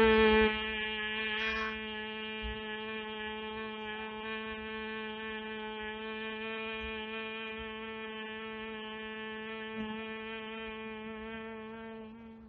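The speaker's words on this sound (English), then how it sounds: "try to create the sound of humming" A person hums steadily on one low pitch for about twelve seconds while breathing out during Bhramari pranayama, a buzzing, even tone held close with no talking.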